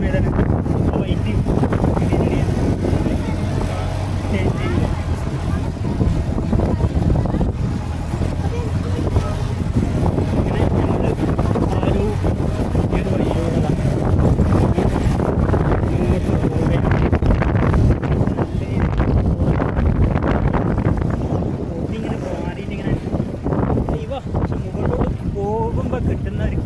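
Strong wind on the Ramakkalmedu hilltop roars into the microphone for nearly half a minute, a heavy, constant buffeting rush with gusty swells throughout, while people talk over it.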